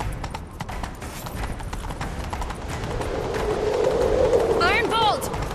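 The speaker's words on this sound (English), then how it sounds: "Grab a horse, we'll chase him down." Horses gallop in pursuit in The Witcher 3, a fast steady clip-clop of hooves close by with a neigh near the end, under game dialogue and voices.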